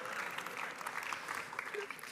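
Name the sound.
audience applause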